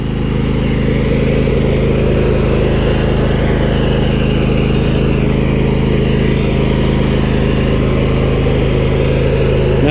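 A Husqvarna YTH22V46 riding lawn mower engine runs at full throttle from about eight feet away, a loud, steady, unbroken drone that holds level for the whole stretch with no talk.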